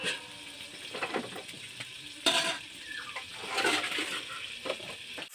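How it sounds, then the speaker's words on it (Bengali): Pointed gourd pieces being stirred as they fry in a pan, giving soft scraping and clattering spatula strokes over a steady, close oil sizzle with no voices. "পটলগুলো আর একবার ভালো করে নেড়ে চেড়ে দিচ্ছি যাতে ভালো ভাজা হয়ে যায়।"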